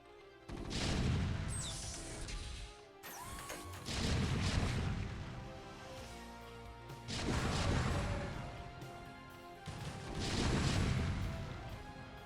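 Terran siege tanks fire in StarCraft II, heavy booming artillery blasts arriving in four or five big rolling surges with crashing impacts, loud and close.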